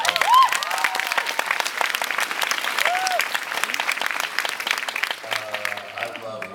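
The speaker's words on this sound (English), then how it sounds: "let's get a round of applause for Sarah" Convention crowd at a Fan Expo Canada Q&A panel breaks into steady applause, dense clapping with scattered whoops and cheers, tapering slightly near the end as a voice begins to speak.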